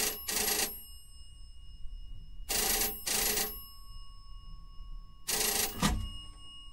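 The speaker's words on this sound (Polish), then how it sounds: "obudził mnie dźwięk telefonu" A telephone rings in a hotel room as a wake-up call, sounding in three loud bursts of electronic ringing separated by pauses, up close with no speech.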